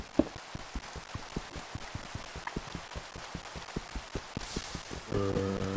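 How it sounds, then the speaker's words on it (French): Rain falls in the blocky world of Minecraft, a soft continuous patter under a steady run of regular ticking footstep-like clicks, ending in a brief brighter burst and a sustained tone. "parce qu'il pleut là"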